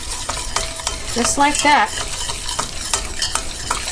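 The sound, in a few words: flour sautéing and being stirred in a pan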